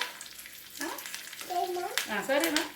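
Urad dal fries in oil with a soft, continuous sizzle, while a voice is heard briefly over the cooking.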